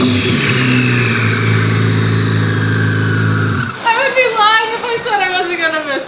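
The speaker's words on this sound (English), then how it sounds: "why don't I just rev the Z06 so you guys can hear what it sounds like with the turbos on" A Corvette Z06 fitted with a twin-turbo kit holds a loud, steady high rev for several seconds, then drops off and blips in a string of sharp, rising throttle bursts, all close to the car.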